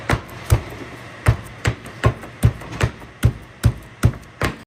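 Garlic and ginger crushed by hand in a kitchen, about a dozen sharp, evenly spaced pounding thuds in a steady rhythm, close and fairly loud, with no talking.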